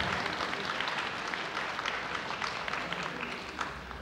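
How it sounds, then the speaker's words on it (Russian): A dense, steady wash of audience applause at a lecture fills the whole stretch, many hands clapping evenly at moderate loudness with no talk over it. "эти аплодисменты нужны вам, чтобы немножко усвоилось"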